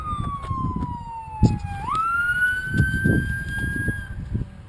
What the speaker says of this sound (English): Got some emergency vehicles coming.